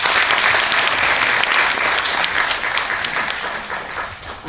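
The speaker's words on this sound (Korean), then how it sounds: "힘찬 박수 부탁드립니다" Sustained applause from a large audience at a memorial ceremony, steady and loud throughout, with no voices standing out.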